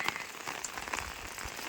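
Steady rain patters on a surface in a village during a monsoon day, soft and even with small scattered drops and no voices.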